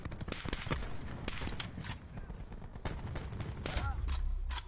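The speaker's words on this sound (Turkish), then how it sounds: "Sniper'la vurdu beni." Call of Duty Black Ops 4 gunfire cracks out as a string of sharp separate shots and bursts, with sniper rifle fire among them, over game ambience, and a player talks now and then.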